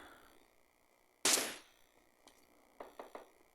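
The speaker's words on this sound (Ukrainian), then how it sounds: "десь стріляють" Gunshots in PUBG Mobile Lite: one sharp, loud crack rings out over quiet ambience, and a moment later three fainter shots fire in quick succession.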